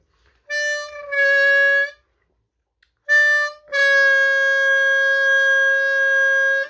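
A reedy harmonica sounds two bent notes on hole 4, each a short note sliding into a long held tone, split by a pause of silence.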